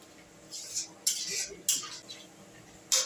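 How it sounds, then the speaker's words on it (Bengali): Tomato being stirred into a cauliflower and potato curry in a pan, giving several sharp scraping clicks of a spoon against the pan at irregular intervals, close and moderately loud. "টমেটোটা দিয়ে নাড়াচাড়া করে জাস্ট একটু মিশিয়ে নেবেন"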